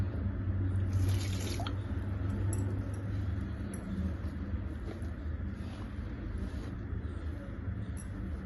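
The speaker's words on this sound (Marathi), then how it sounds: "पाणी एकदम नाही टाकायचं, थोडं थोडं करून टाकायचं" Water trickles and drips a little at a time into gram flour dough being kneaded for fried puris in a home kitchen. The drips are faint and soft over a low steady background hum.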